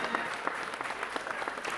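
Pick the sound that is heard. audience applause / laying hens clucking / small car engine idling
audience applause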